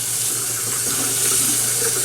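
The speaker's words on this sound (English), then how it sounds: "you can turn the water off" Tap water pours steadily over cooked seafood pasta in a kitchen sink, a loud continuous hiss and splash up close with no talking.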